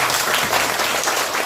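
An audience bursts into brief, dense applause, a continuous wash of many hands clapping at once.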